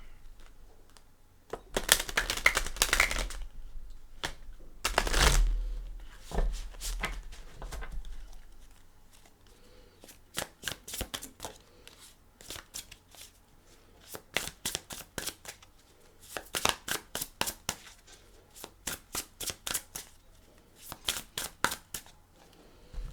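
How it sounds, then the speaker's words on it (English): Tarot cards being shuffled close up, bursts of rapid riffling and flapping separated by short pauses, repeated many times with no voices. "They shuffle very nicely."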